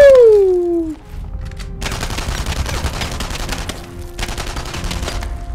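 Rapid automatic gunfire in the World War II shooter game Enemy Front comes in two dense bursts, loud and close, after a falling tone at the start.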